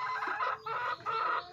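Chickens of an egg-laying breed clucking on a farm, several close, busy clucks and squawks in short bursts with brief gaps between them, no speech.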